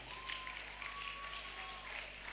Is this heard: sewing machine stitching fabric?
no